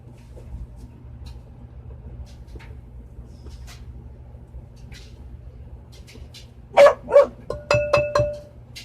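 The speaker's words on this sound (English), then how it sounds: "No, Autumn, no bark." A dog in a home kitchen gives a few sharp, loud barks close by near the end, after a quiet stretch of faint room noise.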